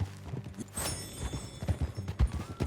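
A horse's hooves clip-clop at an even walking pace in the Red Dead Redemption 2 video game, with uneven thuds over a low background of in-game ambience.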